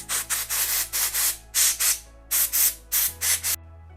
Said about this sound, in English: some compressed air, and you just want to blow out any visible dust or grit out of all the holes